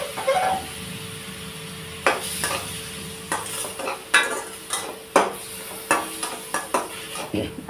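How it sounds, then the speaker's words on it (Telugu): Chopped tomatoes land in a pan of hot oil and sizzle softly while a spoon stirs, scraping the pan with a series of close, irregular clinks and taps. "ఇందులో కొంచెం ఆయిల్ వేసుకుందాం. కొద్దిగా వేస్తున్నాను నేను. అలాగే ఇప్పుడు ఈ టమాటాలు ఇందులో వేసేసుకుందాం."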